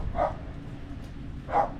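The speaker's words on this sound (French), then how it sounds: "Qu'est-ce que c'est encore ce chien?" A dog at an abandoned house in rural Italy, among fig trees, gives two separate barks over a second apart, moderately distant, against quiet outdoor background.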